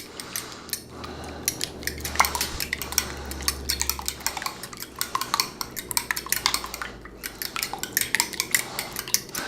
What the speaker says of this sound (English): I'm going to whisk this